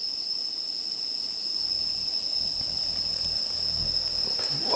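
Crickets chirp in a steady, high continuous trill on a night outing to check for stag beetles, with faint low rustling underneath and no talking.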